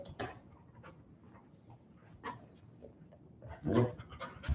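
A dog pants in quick breathy bursts during trick training, with a few louder huffs near the end, close and clear with no talk over it.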